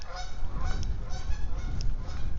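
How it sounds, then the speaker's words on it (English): Several geese honk at a distance in a state park, scattered calls over a steady background hum, with no talking. "See, the geese are moving."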